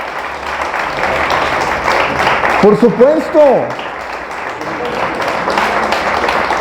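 A church congregation claps loudly and steadily, with a voice briefly speaking over the applause partway through.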